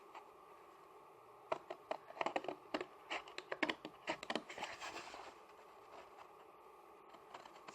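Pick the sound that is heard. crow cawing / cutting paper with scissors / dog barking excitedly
cutting paper with scissors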